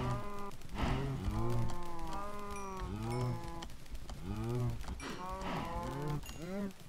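Repeated cow moos in the Minecraft game, a herd of cattle calling in overlapping, drawn-out lowing bursts at a steady, fairly loud level throughout.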